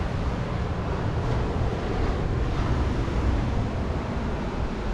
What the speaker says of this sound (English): The sound of crashing waves on the beach.